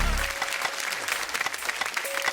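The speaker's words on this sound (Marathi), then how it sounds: "जोरदार टाळ्या" Applause from a studio audience at a Marathi women's TV game show, a steady, dense wash of clapping that lasts throughout at moderate volume, with no voices over it.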